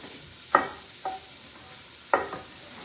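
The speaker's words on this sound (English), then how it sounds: "So just melt your butter down." Butter melting in a pan for a roux, with a soft background sizzle and three sharp scraping stirs of a utensil against the pan at irregular intervals, close and clear with no talking.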